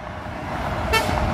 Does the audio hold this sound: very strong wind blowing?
no